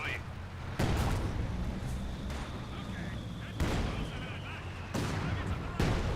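Mortar and light artillery barrage in the World War II strategy game Company of Heroes 2: dense, continuous rumbling gunfire with heavy booming impacts landing around 1, 3.6, 5 and 5.8 seconds, close and loud throughout.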